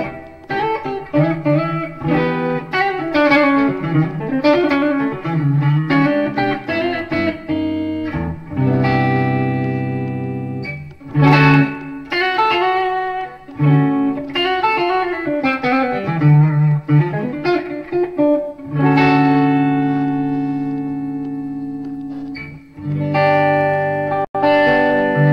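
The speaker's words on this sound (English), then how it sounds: "This is in clean tone and in distortion" An Olympia electric guitar plays a long run of riffs and chords, switching between a clean tone and a heavier distorted tone, loud and close throughout.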